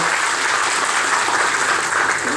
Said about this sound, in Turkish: Remzi Bey de alkışlayalım.